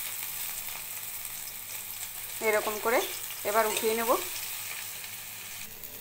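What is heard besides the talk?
helencha greens pakoras frying in oil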